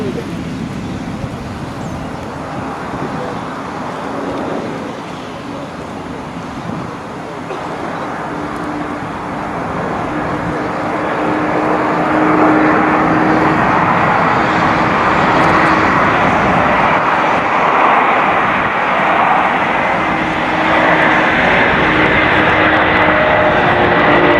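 Engines of the Antonov An-225 Mriya at the Aviasvit 2008 air show, a broad, steady roar that swells louder partway through and holds, with faint voices in the background.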